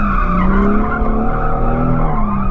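Car tires squealing in a sustained, loud skid during night drifting with a welded differential, a continuous howling screech layered over a droning engine for a couple of seconds.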